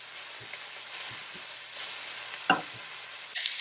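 Sausages browning in a skillet give off a faint, steady sizzle, broken by a few soft stirring knocks and brief bursts of louder crackle.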